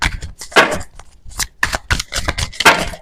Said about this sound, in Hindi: बहुत सारे लोगों को शफल करने की आवाज बहुत ज्यादा पसंद है कार्ड्स की जब शफल होते